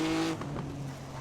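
A racing simulator game car engine hums at steady revs, a tonal drone that drops slightly in pitch partway through, moderately loud with no talk.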